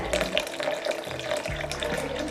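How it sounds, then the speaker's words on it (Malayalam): Water poured into blended raw mango pulp in a blender jar, a steady close splashing trickle running for about two seconds with no voices. "ഇനി നമുക്ക് കുറച്ച് ഇതിൽ വെള്ളം ആഡ് ചെയ്യാം."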